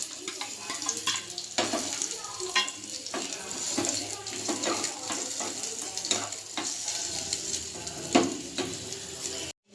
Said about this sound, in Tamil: இப்போ வெங்காயத்தை போட்டு தாளிச்சு